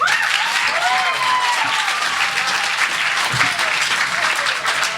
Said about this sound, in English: Round of applause for Rudy Francisco.